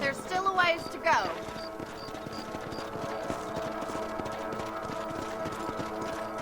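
Steady clip-clopping of horse hooves while riding in Red Dead Redemption, a brisk even rhythm that keeps going throughout, with a short burst of other sounds at the start.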